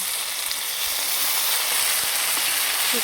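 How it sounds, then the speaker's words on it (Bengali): A ground spice paste with salt and turmeric powder fries steadily in a pan for a rohu fish curry, giving a constant close sizzle with faint stirring scrapes. "ভালোভাবে মশলাটাকে কষিয়ে নেব"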